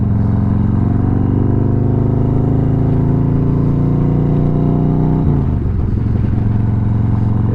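Motorcycle riding on a road on a cold Southern California day, a steady loud engine drone with wind rush, the pitch dropping briefly near the end as the rider shifts or eases off.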